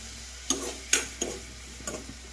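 Chopped green chillies drop into hot oil for a North Karnataka split black gram curry, giving a few short sizzling bursts with stirring clatter between them, close and fairly quiet.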